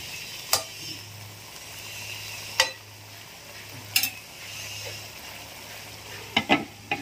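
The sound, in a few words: sautéed chayote cooking in a pan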